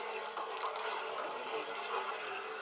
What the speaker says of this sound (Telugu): కార్న్ఫ్లోర్ వాటర్ ఇందాక కలుపుకునే ఉన్నాయి కదండి, అవి కొద్దిగా పోసుకుంటూ బాగా కలుపుకోవాలి